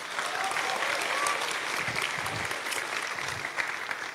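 A crowd claps for a preschool teacher at a public gathering: dense, even applause that holds steady throughout at a moderate distance, with no one speaking over it.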